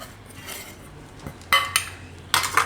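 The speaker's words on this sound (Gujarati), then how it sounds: "તો આ બધું આપણે મિક્સ કરી લેવું." Spoon clinks and scrapes against a bowl while mashed potato, shredded cabbage and fresh coriander are mixed for aloo gobi tikki, quiet shuffling broken by two sharper bursts of clatter near the end.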